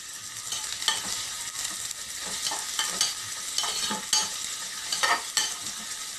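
Onions fry and sizzle in a pan while a spoon stirs them, a steady hiss broken by repeated scraping strokes at an uneven rhythm, close and moderately loud with no talking.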